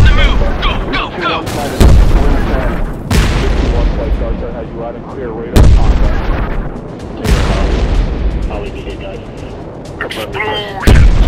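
Heavy explosions from the jet fighter game Modern Jet Fighter, with a MiG-21 in play, boom loudly at intervals, about five big blasts with rumbling tails between them and no speech over them.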